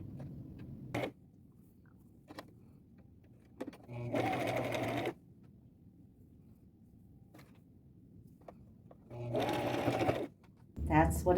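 A sewing machine runs two loud bursts of its largest zigzag stitch, each about a second long, while strips of fringe are sewn onto an upcycled boho belt. Quieter handling clicks fall in between, and a final short burst closes the passage.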